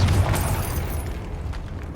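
A Confringo fire spell explodes in Hogwarts Legacy, a broad booming blast with a rumbling low end that rolls on and slowly fades across two seconds.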